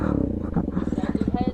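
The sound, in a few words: motorcycle engine started for wheelie practice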